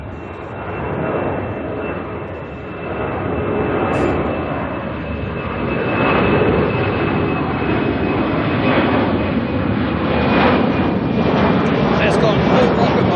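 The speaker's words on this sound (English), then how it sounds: "let's watch this DHL Tasman head out" A DHL Tasman cargo jet climbs out from Auckland Airport, its broad engine roar swelling steadily and staying loud and continuous through the clip, with a faint whine riding on top and a voice talking over it.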